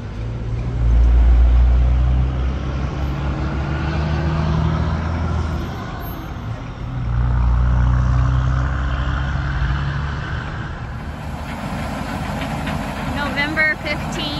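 A combine harvester runs in a field during harvest: a steady, loud low engine drone with mechanical rumble that swells and eases twice, with speech probably in the background.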